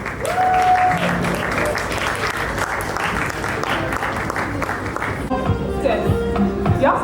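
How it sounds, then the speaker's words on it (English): Audience applause fills a film financing conference hall, a steady, dense wash of many hands clapping at a moderate distance that carries on throughout, with some voices and a brief musical tone mixed in. "Ladies and gentlemen, a roaring applause for Chioma Onyewu."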